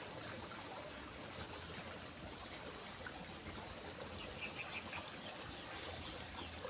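Stream water rushes and bubbles along a channel, swollen by heavy rain upstream, as a steady, even broadband wash with no pauses, heard from close by at low overall level.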